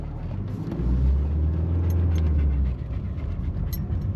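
A Mercedes 240D diesel car driving at half throttle, with a steady low engine drone that swells slightly then eases, heard from inside the cabin with no talking.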